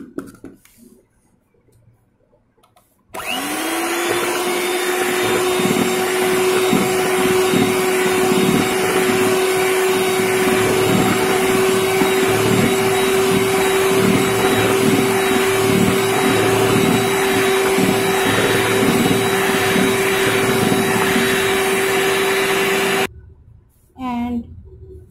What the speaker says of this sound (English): With the help of beater, I mix it properly.